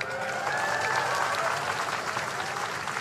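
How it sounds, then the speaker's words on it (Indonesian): Participants at an Indonesian national ceremony clap together in steady, dense applause that holds at an even level for about three seconds. "Tepuk tangan semuanya, keren."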